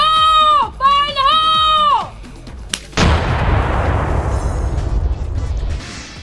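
A Navy EOD team sets off an explosive detonation: after shouted voices, a single loud blast hits and rumbles away over several seconds.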